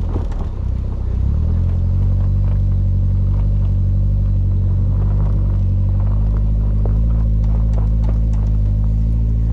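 A Suzuki four-wheel drive stops on a rutted hill and its engine builds revs to move off, a loud, close, low rumbling drone that swells after a brief dip and holds steady, with no talk.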